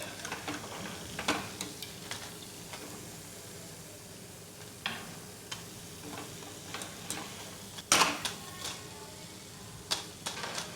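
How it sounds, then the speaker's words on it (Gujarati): Soft, quiet sizzle of poha puri frying in oil, a low continuous hiss broken by scattered small pops and ticks, one sharper crackle near the end. "પૂરીને આપણે તળાવા દઈએ ગોલ્ડન ક્રિસ્પી થાય ત્યાં સુધી"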